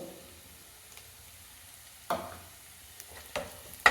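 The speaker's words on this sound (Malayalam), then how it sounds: "ലോ ഫ്ലെയിമിൽ വെച്ച് നന്നായിട്ടൊന്ന് ഇളക്കുക." Softened shallots with black pepper powder are stirred in a pan over a low flame, giving a few sharp spoon scrapes against the metal over a faint, quiet sizzle.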